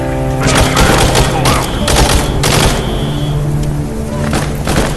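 Rapid bursts of gunfire from a first-person video game shooting mission, loud and close, with repeated volleys and thuds over a busy background and speech mixed in.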